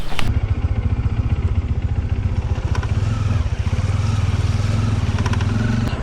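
A motorcycle rides along a jungle trail in extreme heat, its engine giving a steady, loud, pulsing drone that runs without a break, with faint clatter over it.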